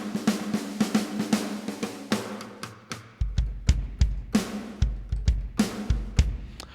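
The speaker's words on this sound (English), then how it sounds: "I'm just playing the snare drum on a keyboard." A sampled snare drum from drum programming software is triggered on a keyboard, sharp crisp hits in a loose uneven rhythm, some quick flams and rolls mixed in with deeper low thumps.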